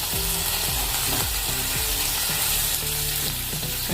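Chopped tomatoes sizzle and fry loudly in a hot pan alongside carrot and capsicum for aloo pulao, a steady crackling hiss with a few soft scraping clicks of stirring, no voices.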